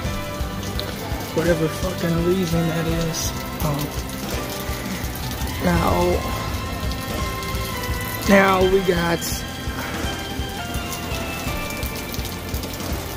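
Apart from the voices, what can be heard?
light rain falling during a thunderstorm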